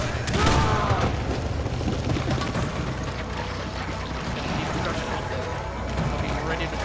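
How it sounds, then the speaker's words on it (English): In a video game, a thrown grenade bursts among a steady spray of gunfire and heavy booms, a busy, loud battle soundscape running throughout while a player talks over it. "I'm immediately chucking a nade that way."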